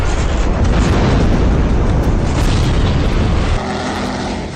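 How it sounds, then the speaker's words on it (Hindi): Explosions from Israeli fighter jet airstrikes produce a loud, continuous roaring rumble that persists throughout, easing slightly toward the end. "इजरायली सेना के लड़ाकू विमानों ने ताबड़तोड़ हमले किए"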